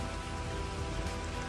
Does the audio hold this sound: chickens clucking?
no